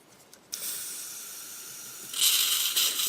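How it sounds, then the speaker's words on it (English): An airbrush sprays X20A thinner in a model-building workshop: a short puff, then a sustained sharp hiss that grows louder and stronger for the last second, close and alone. "Quick squirt of X20A."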